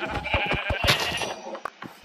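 A white sheep in Minecraft bleats in a short series of close, wavering calls, with no talk.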